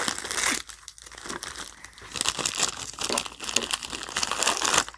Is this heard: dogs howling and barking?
no